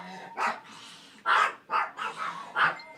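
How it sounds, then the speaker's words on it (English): A dog barks five times in uneven bursts, the barks sharp and moderately loud, with a low background hum between them and no talking. "sorry about the dog's barking there."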